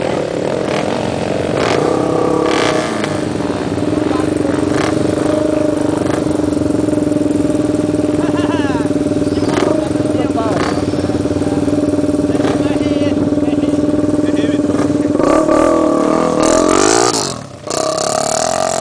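Off-road motorcycles at a trail riding event drone and rev steadily nearby, a thick engine hum that swells louder near the end, with people talking over it.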